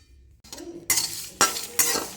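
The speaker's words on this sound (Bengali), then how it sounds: "চলো লো ফ্লেমে খানিকক্ষণ একটু ভেজে নিই।" Sambar spice mix with curry leaves dry-roasting in a pan over a low flame, stirred with a few distinct scraping strokes after a quiet start.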